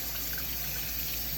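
A tap runs steadily for a kitten bath at a Maine Coon cattery, a brief, even rush of water, close and moderately quiet.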